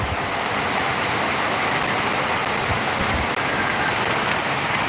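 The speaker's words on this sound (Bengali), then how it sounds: "অনেক বৃষ্টি পড়তেছে" Heavy rain pours down in a steady, dense roar of hiss that never lets up.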